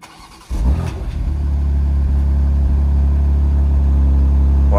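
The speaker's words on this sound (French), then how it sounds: "Démarre moi ce gros 4x4 géant." BMW X3 M Competition SUV with a Stage 1 tune cranks and fires up, followed by a loud, deep, rumbling idle that holds steady close by.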